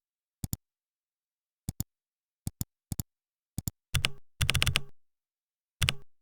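Computer keyboard keys tapped while editing attributes in the sch-rnd schematic editor's dialog: sparse paired clicks early, then a few denser bursts of quick typing, close and crisp with no talk.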